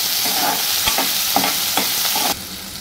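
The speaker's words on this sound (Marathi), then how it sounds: "आता ह्या मिरच्या घालतो, त्याच्यानंतर हा कांदा घालतो आणि हे चांगलं परतून घ्यायचं।" Green chillies and onion sautéing in a pan for a chapati vegetable dish, a loud steady sizzle with rhythmic scraping of a spoon stirring through the pan.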